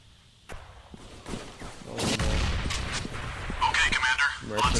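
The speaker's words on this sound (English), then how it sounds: "Oh no, someone's shooting at us." Gunfire in the mobile shooter Battlefield Mobile, with scattered shots and bursts cracking over a rumbling battle bed that grows denser toward the end. A player's voice cries out over the shooting.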